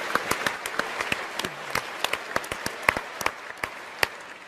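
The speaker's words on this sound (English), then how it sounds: "So you all deserve a round of applause" A large audience of about two thousand people applauds at a science debate on parallel realities and quantum mechanics, a dense, steady wash of many hands clapping with sharper individual claps standing out, heard at a distance throughout.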